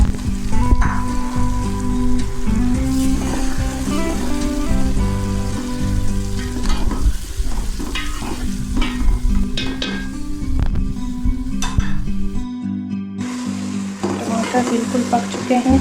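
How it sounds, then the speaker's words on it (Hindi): Tomato paste frying with masala in a pan for rajma or lobia masala, a steady loud sizzle and crackle that runs the whole time, with scattered clinks over a dense background. "अब हम इसमें टमाटर का पेस्ट ऐड कर देंगे और इसको अच्छी तरह पका लेंगे।"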